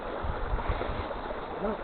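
A waterfall tumbles along a steep fell climb toward Herdus, a steady broadband rush of falling water close by, constant throughout with no one speaking.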